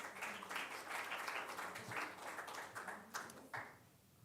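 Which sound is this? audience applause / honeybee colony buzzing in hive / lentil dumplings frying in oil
audience applause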